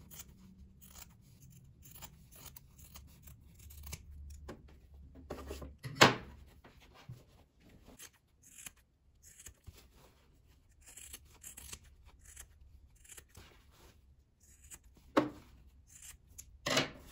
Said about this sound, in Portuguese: Vou cortar esses cantinhos aqui na diagonal antes de desvirar, para não ficar muito grossa a nossa costura